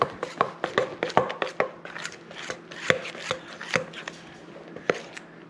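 Slime mixture being stirred and mixed by hand, giving close, irregular wet taps and squelches that repeat quickly over a quiet background.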